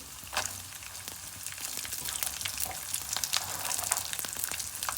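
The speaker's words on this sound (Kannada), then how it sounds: "ಒಣಮೆಣ್ಸಿನ್ಕಾಯಿನ ಸೇರಿಸ್ಕೊತಾ ಇದ್ದೀವಿ" Dried red chillies frying in oil in a pan, a steady close crackling sizzle with scattered sharp pops and occasional stirring scrapes, no voices.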